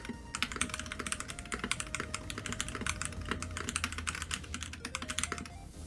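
Steady, fast typing on a MelGeek MADE84Pro mechanical keyboard, with dense, close clacking keystrokes in an even rhythm and nothing else over it.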